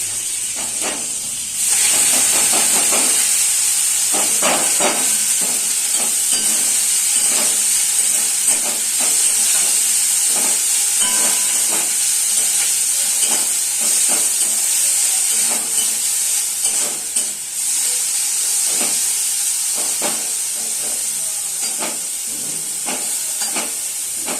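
Greens hiss loudly in a hot wok while a spatula repeatedly scrapes and tosses them in an uneven rhythm.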